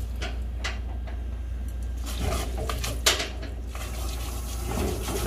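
Chapaguri instant noodles being stirred together with seasoning powder in a pot, giving a steady wet, sloshing scrape with a few sharper clinks against the pot, close and moderately loud.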